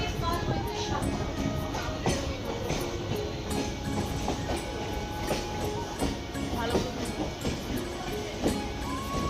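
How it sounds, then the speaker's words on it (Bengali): A local train travelling toward Tarakeswar rumbles steadily along the rails with rhythmic clicks of the wheels, heard from inside a nearly empty carriage. "একদম আটটা পঁচিশেই কিন্তু ট্রেন ছেড়ে দিল আমাদের"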